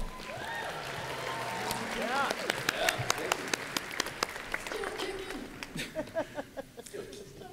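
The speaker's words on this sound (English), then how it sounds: "Let's give them a round of applause." Audience applause at Phoenix Comicon for a Starship Troopers 15th anniversary panel, a dense sustained wash of clapping from a large indoor crowd with scattered voices and whoops, louder distinct claps standing out toward the end.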